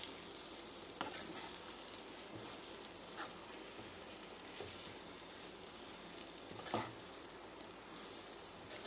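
Masala paste for stuffed eggplant curry sizzles softly in a pan while it is stirred, a steady quiet frying hiss with occasional scraping clicks from the utensil.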